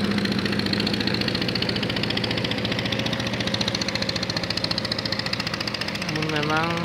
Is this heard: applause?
no